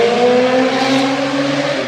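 A car drives past outdoors on a street, its engine and tire roar loud and close, a steady broad rush with a faint tonal hum that swells and slowly fades over two seconds, with no talking.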